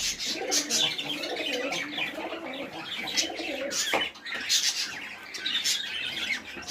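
Pigeons coo and chirp on a small farm, with repeated soft coos and scattered calls close by in a busy, continuous mix.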